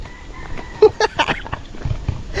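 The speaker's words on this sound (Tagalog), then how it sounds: "Ang daming sisiw." Chickens and chicks clucking close by, a few sharp clucks and peeps in quick succession over a low rural background.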